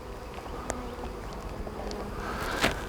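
Honey bees flying around the back entrance of a hive during a queen castle inspection make a soft, continuous buzzing hum, with single bees briefly passing closer to the microphone.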